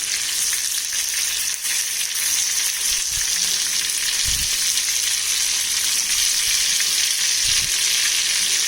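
Turkish Adana shami kebabs sizzle steadily in a frying pan after being flipped, a close, constant crackling hiss with a few soft scraping knocks.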